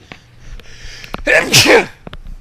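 A single close sneeze, with a sharp intake and a loud burst, preceded by a few faint clicks and rustles.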